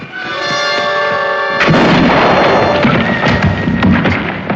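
A gunshot from a frontier TV western cracks in loudly partway through, cutting across a held musical tone, then gives way to a sustained, rough rumbling din that carries to the end.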